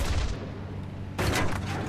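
Burst of gunfire in a World War II–style flight combat game over the Ruhr, aimed at a low bomber formation; a steady engine drone runs underneath, then a louder volley of shots erupts about halfway through.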